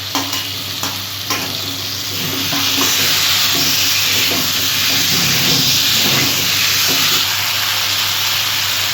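Raw ridge gourd, sweet potato, taro and radish hit a hot pan with a loud, close, hissing sizzle, and a spatula stirs through the steady frying noise.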